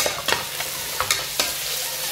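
Green chillies are stirred in a frying pan, with a spatula scraping and clacking in a few sharp strokes over a steady background sizzle, close and alone.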